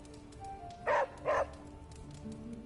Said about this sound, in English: Who's a good girl? It is my Charlie girl